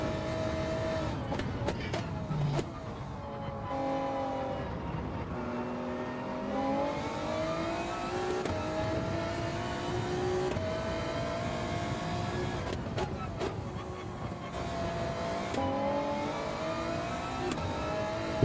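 Race car engines rev and drone continuously through a Gr2 league video game race, with layered rising and falling engine pitches, brief throttle lifts and several cars audible at once.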